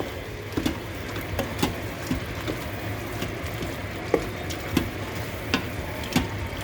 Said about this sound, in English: now we're going to mix this all up